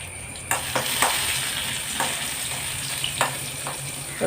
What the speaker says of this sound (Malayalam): ഇത് നല്ലോണം മൂത്ത് വരട്ടെ, ബ്രൗൺ കളറാവട്ടെ.